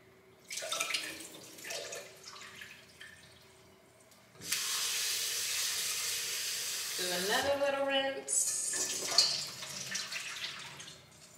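Tap water pours steadily into a sink for several seconds while something is rinsed, framed by brief talk before and a voice speaking over the stream near the end.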